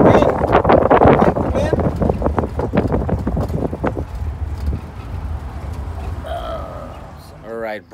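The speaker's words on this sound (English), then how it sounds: "The wind, my boy, the wind." Strong wind buffets the microphone outdoors during a local power outage, with loud, rumbling gusts that ease off over several seconds. Someone talks over the roar.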